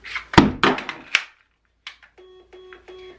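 Several dull mechanical clunks and taps from reloading a Mantis Titan X laser training pistol, close and fairly loud, followed by a short run of electronic beeps.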